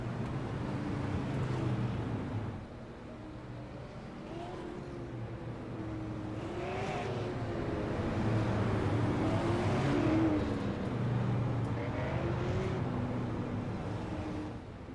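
A cone car circles a race track, its engine droning and rising and falling as it passes, fairly faint and far off, with no voices.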